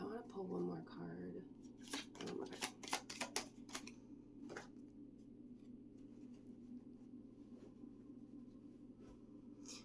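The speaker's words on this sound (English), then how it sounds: "I want to pull one more card." A tarot card pulled and shuffled from a deck, with a run of soft crisp flicks and taps, followed by quieter low hum.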